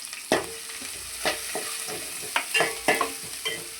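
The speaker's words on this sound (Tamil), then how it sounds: "வெங்காயம் நல்லா வதங்கட்டும்." Onions and garlic sauté in a pan under a constant hiss, punctuated by a series of sharp spatula scrapes and clanks at irregular intervals, close and fairly loud, with no talking.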